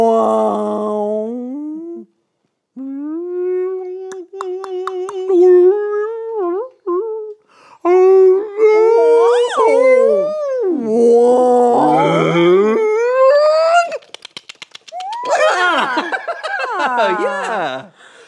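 A person imitates whale calls with long, wavering moans and rising, sliding wails, broken by short pauses across a continuous vocal performance.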